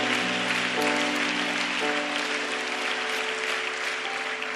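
Congregation applause in a church during a sermon, a steady wash of clapping lasting several seconds under sustained organ or keyboard chords.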